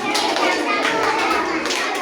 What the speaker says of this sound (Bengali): সবাই তালি দিয়ে পড়বা।